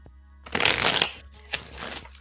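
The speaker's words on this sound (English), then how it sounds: "Get a nice quick shuffle going." A tarot deck riffled quickly in two bursts, a long crisp flutter followed by a shorter one, close and clear with no talking.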